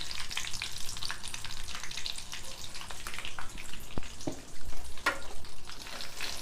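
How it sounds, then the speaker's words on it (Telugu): A pinch of turmeric goes into sizzling tempering oil already holding dried chillies, crushed garlic and curry leaves, giving a dense, close frying hiss with scattered pops and light stirring scrapes; no speech. "ఇప్పుడు కొంచెం పసుపు వేసుకుందాం తాలింపులో."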